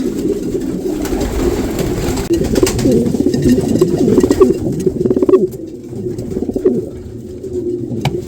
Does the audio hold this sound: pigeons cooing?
yes